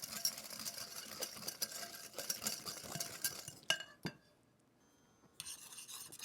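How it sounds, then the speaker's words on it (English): Eggs are whisked in a bowl, a busy metallic scraping and clinking that runs for several seconds, breaks off, then briefly resumes. "give that a whisk"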